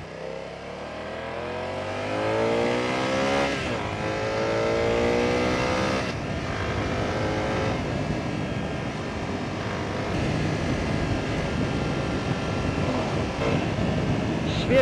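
A BMW F900R motorcycle with its factory exhaust revs and accelerates hard, its engine note climbing in rising sweeps and shifting through gears, loud and sustained for the whole stretch.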